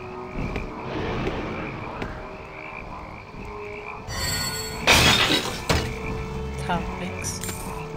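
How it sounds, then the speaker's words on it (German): Frogs croak in a swamp in the video game Dungeon Siege, a steady chorus of repeated croaks under game ambience, with a sharp crash and clatter of effects midway. "Ich höre wieder Frösche, wir sind im Sumpf."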